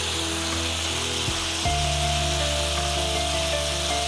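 Cooked cassava stirred in a hot pan, a steady low sizzle with soft scraping under a faint background hum, no talking.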